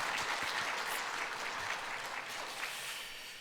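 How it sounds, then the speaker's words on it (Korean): Applause from a church congregation at a Friday prayer meeting, a broad sustained patter of many hands that holds steady and then slowly fades over a few seconds, with no voices. "우리 수인자매에게 감사의 박수."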